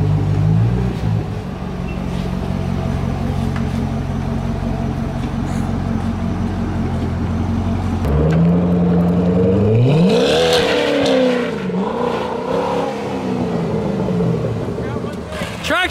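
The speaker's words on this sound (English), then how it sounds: "I think you should go do some donuts right there, see how the suspension feels." A C6 Corvette revving and spinning through donuts, engine note rising and falling in sweeping surges with some tire noise, loud and close, while people talk and cheer over it.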